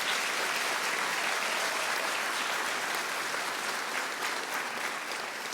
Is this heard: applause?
yes